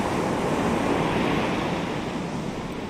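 Sea surf rolls steadily onto a beach at a Morocco campsite. The roar is loud and continuous, with wind buffeting the microphone.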